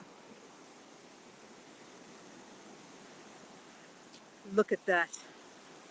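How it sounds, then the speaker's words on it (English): Steady broadband wash of ocean waves and spray, constant and fairly soft throughout, with a brief spoken remark near the end. "Oh, the ocean, the sea, the waves, the spray."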